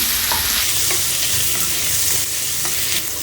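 Garlic, ginger and cashew pieces are stirred in a hot pan for paneer butter masala, giving a loud, close, continuous sizzle with scraping sounds from the stirring.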